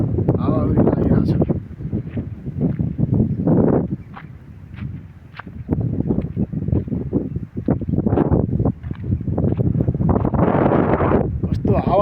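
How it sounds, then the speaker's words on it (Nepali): Strong gusts buffet the microphone in a hill village ringed by ridges on a hot day, a loud, continuous roaring rumble that surges and eases in waves throughout. "कस्तो हावा चलिरहेछ"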